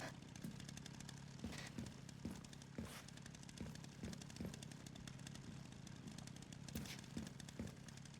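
A chainsaw in the video game Resident Evil Requiem runs with a steady buzzing drone, faint and continuous throughout, with small periodic knocks and no talking.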